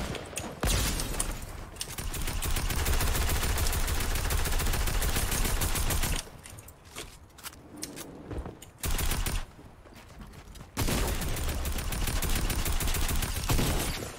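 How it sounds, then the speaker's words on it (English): A Dragon's Breath shotgun fires in Fortnite, sending out long, loud, dense bursts of gunfire broken by short quieter gaps over about fourteen seconds. "I got Dragon's Breath Shotgun."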